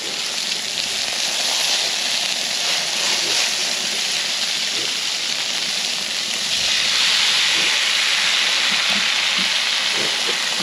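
Flounder fillets frying on a Blackstone griddle give a steady, loud, close hiss and sizzle that swells slightly partway through, with no talking.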